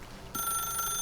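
An in-game telephone in The Stanley Parable starts ringing partway through, a steady electronic bell tone that is loud and clear after a short quiet opening.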